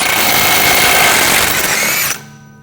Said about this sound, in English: Using a 36mm socket, take the nut off.